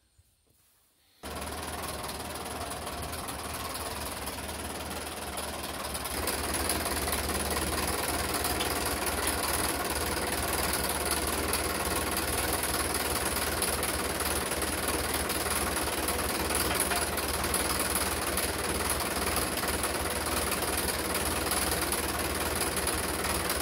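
Tractor engine running with a McConnel PA6 ditcher hooked up, starting up abruptly after a brief quiet and then holding a steady, loud, rattling idle that continues without a break.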